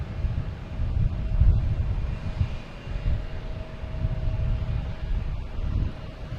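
A Delta airliner, Flight 399 bound for Atlanta, rumbles at Boston Logan Airport, a continuous low engine roar with a faint steady tone, heard from a distance with some wind buffeting the microphone.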